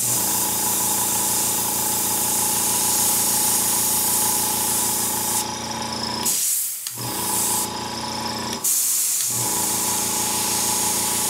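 Airbrush gun spraying paint onto a church diorama gives a steady, close hiss with a constant compressor-like hum beneath, broken by two brief pauses between bursts.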